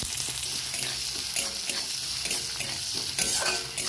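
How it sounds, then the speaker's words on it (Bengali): Onions fry in hot oil in a wok, giving a dense, even sizzle up close with light stirring scrapes throughout and no voices. "পেঁয়াজগুলো ভেজে নেবো।"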